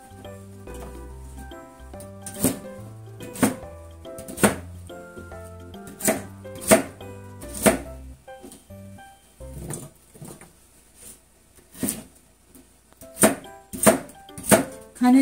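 Vegetables for a vegetable soup are chopped with a knife on a cutting board, sharp isolated chops spaced irregularly with pauses, close and clear in a quiet kitchen.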